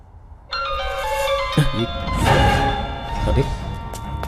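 A phone rings with a sustained melodic tone that starts abruptly and keeps going. Voices talk over the ringing.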